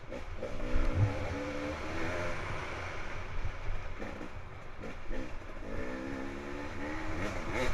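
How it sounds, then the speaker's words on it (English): Two-stroke enduro dirt bike engines in a hard forest race, a rough droning moan of engines rising and falling at a distance with some mechanical clatter, moderately loud with no talk. "You hear that moan of a two-stroke."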